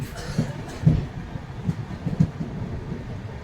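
The Digha–Visakhapatnam Express runs on its final stretch toward Visakhapatnam, heard from inside as a low, steady rumble with periodic wheel thumps. A voice talks faintly in the carriage.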